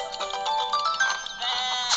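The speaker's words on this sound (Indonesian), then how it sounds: "Itu kenapa kambing kena merangkak guna tongkat ali yang sepanjang itu ya?" A goat in the video game Walk Master gives one long, wavering, nasal bleat that rises in pitch toward the end, fairly loud and heard alone.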